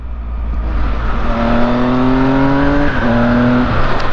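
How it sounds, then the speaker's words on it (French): A motorcycle engine pulls with a steady low drone, its pitch climbing gradually under light throttle, briefly dipping around a shift, then rising again, loud and close throughout. "même quand on n'accélère pas très fort, ce moteur est présent tout de suite"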